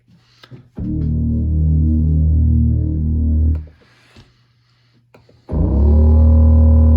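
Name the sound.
warm synth bass preset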